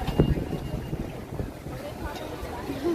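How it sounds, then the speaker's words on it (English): Strong gusting wind buffets the microphone outdoors at EPCOT during the Flower and Garden Festival, a steady low rumble with brief louder bursts, while faint voices murmur in the background. "It is super windy here."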